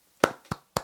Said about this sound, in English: We'll put a quick clap in there so you know